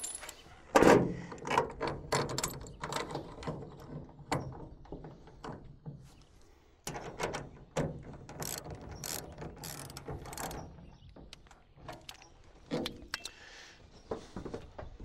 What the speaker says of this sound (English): Now you can install a clamp.